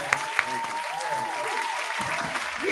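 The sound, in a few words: applause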